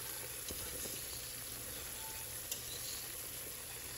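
A cornstarch-thickened RC tire prep mixture reducing over heat gives a steady, even hiss of simmering and faint bubbling, with a few tiny ticks and no talking.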